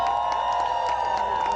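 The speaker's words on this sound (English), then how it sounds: "Let's give a round of applause to Poland." A rally crowd in New York cheers and applauds for Poland at a Stand for Ukraine event, a short, steady, fairly loud wash of cheering with no clear talk over it.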